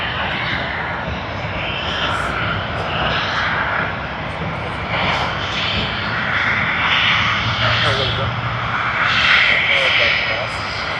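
Fiji Airways Airbus A350 jet engines roar steadily at Sydney Airport, a loud broadband rush with rising and falling whine, heard close and continuous for several seconds.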